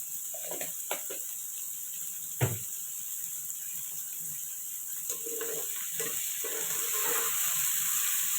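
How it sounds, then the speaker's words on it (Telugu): Chicken biryani masala frying in a pan makes a soft, low sizzle, broken by a few scraping stirs and one sharp knock against the pan, then rising slightly toward the end. "ఇది కొంచెం మనకు ఫ్రై అవ్వాలి"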